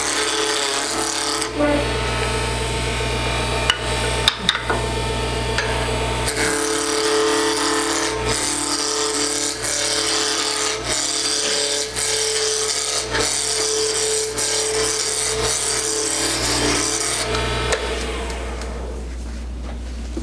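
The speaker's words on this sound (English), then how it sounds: "I'm just going to come along and just do some quick roughing cuts just to get round" A wood lathe turns a Christmas ornament blank while roughing cuts scrape and rasp continuously over a steady motor hum. The cutting noise is loud and close, then stops near the end, leaving the motor running.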